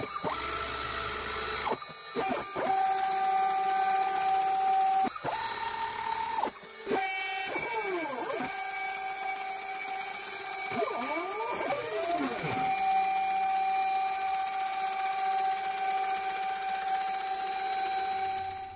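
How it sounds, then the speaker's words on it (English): CNC machine cutting 2mm aluminium sheet, a steady high whine with spindle tones rising and sweeping as the cutter moves, briefly pausing before resuming; loud and close, with one short spoken word. "it's time to fire up the CNC"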